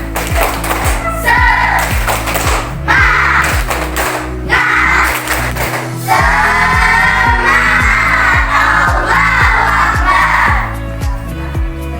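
Students in a classroom clap out a rhythmic chant, repeated tapping and clapping beats in a steady pattern, loud and close, with bursts of group noise and a brief pause in the low beat midway.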